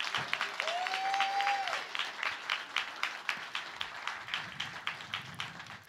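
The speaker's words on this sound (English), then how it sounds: "Prince Markie Dee and Buff Love are here, so please give them both, Quentin, a round of applause." Audience at a hip-hop hall of fame induction ceremony applauds with a continuous wash of clapping, individual claps audible in a fairly quick rhythm; a brief whistle-like tone rises early on, and the applause stays moderate and somewhat distant.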